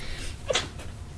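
A single brief sneeze bursts out once amid quiet room tone, close and moderately loud, with nothing around it.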